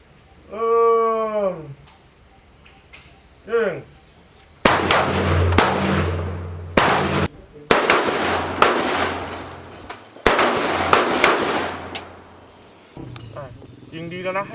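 Army recruits fire rifles at shooting practice: a series of loud, broadband gunshot blasts with long echoing tails, following a few spoken commands.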